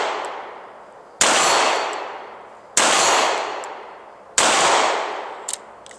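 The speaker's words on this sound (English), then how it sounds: "see if I can get anything on steel with these snubby nose revolvers" Smith & Wesson and Ruger snub nose revolvers fire at steel targets about 20 yards out, three loud separate shots, each with a long decaying echo, the last followed by a faint metallic ping.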